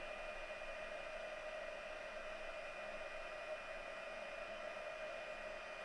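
A heat gun blows steadily from below a card to melt embossing powder, producing a constant whirring hiss with a faint tonal whine, even and unbroken throughout.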